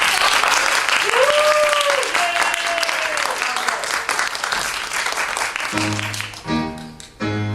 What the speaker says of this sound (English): So could you give them a big round of applause?